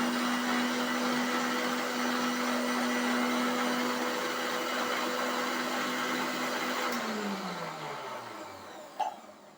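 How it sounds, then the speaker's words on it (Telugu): A mixer grinder whirs steadily while blending orange juice with a glass of water, its motor hum loud and constant before spinning down to a stop near the end. "మళ్ళీ మిక్సీ చేసుకుంటే"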